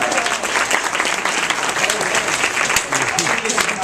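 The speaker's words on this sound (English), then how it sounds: "Let's give him another round of applause." Audience at a childhood obesity summit applauds a young essay writer, a steady wash of clapping filling the room at close range with some crowd murmur underneath.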